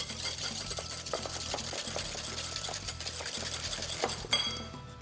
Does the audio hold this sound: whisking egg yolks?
yes